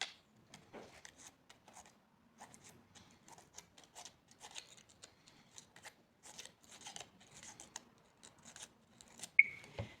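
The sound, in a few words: scissors cutting a paper mimosa leaf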